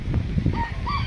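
A crested chicken calls briefly with a couple of short throaty notes, nearby and moderately loud over low background noise, outdoors on a very windy day.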